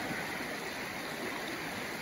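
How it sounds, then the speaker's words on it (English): A river in Maine flows past a gold-prospecting spot, giving a steady, broad rushing wash of water that stays even and close throughout, with no voices. "And there's the river."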